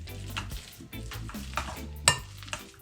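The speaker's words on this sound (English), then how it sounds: "I'm just crushing my bananas." Three medium bananas being crushed by hand for Jamaican banana fritters, a soft squishing, stirring rhythm of repeated mashing strokes with one sharper clack near the end, close and moderately quiet.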